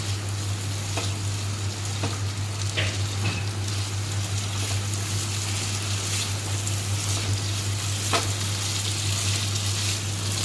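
A sweetened soybean mixture sizzles as it stir-fries in a pan, with a constant crackling hiss and occasional light spatula clicks over a low steady hum, near and without voices.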